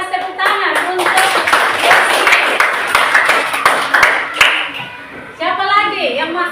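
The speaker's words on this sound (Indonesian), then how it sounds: "Kita kasih tepuk tangan untuk" Classroom students clapping their hands in a quick burst of sharp, close claps mixed with children's voices talking over them.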